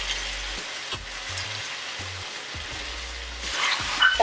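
Potatoes frying in ghee in a pan for an Odia-style chicken ghee roast, a steady close sizzle with faint stirring clatter, briefly louder near the end.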